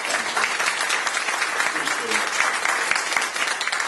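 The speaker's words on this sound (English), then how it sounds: "Let's give them all a round of applause" An audience at a send-off breakfast breaks into sustained applause, a dense, even wash of many hands clapping throughout.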